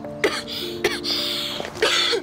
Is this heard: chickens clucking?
no